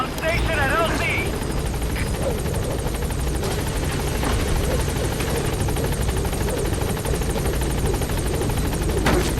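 The Pequod helicopter in Metal Gear Solid 5 holds a loud, steady rotor thump and engine drone near the landing zone, while in-game radio voices speak briefly at the start.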